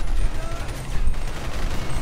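Machine gun firing in GTA Online, heard as continuous rapid rattling bursts that sit loud and close across the whole stretch, with a low rumble underneath.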